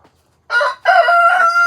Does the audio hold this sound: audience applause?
no